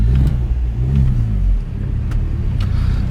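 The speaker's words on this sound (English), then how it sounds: "Pretty smooth engine this." An Audi S3 with a freshly installed engine drives along, its smooth engine note a steady low rumble that swells slightly then settles, with faint ticks and road noise around it.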